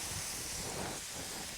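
Steam hissing off a Blackstone griddle as onion burgers cook, a soft, even hiss that runs steadily throughout, faint and without talk.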